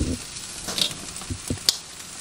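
Steak searing in a pan, cooked on each side, giving a steady broadband sizzle with a few brief clicks and taps from handling in the pan.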